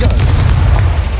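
A Confringo fire spell explodes in the Hogwarts Legacy video game, a loud, sustained booming blast with heavy low rumble that fills the whole moment without letup.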